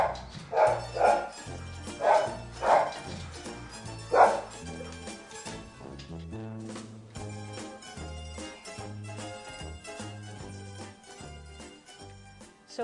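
A dog barks repeatedly in a steady run of loud, close woofs, then the barking drops away under a busier background of yips and movement.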